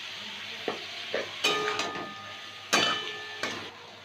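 Beans, radish and potato fry in a pan with turmeric and Kashmiri chilli powder, giving a steady close sizzle broken by several sharp scrapes and clinks of a spoon stirring against the metal.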